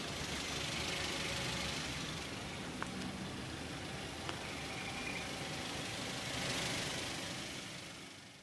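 A 2011 Toyota Avanza 1.3 G engine idling, a steady low hum with faint mechanical ticks, continuous and even throughout.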